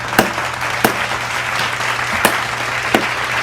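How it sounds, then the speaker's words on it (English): Several sharp, distinct claps ring out at uneven intervals, close and fairly loud over a steady low room hum, roughly four or five spaced hand claps. "Clap it up."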